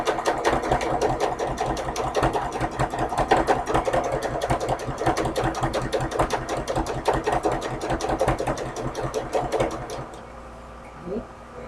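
A sewing machine fitted with a wide open toe presser foot stitches a folded seam, running in a steady, fast, even whirr for about ten seconds before slowing and stopping, with no voices over it.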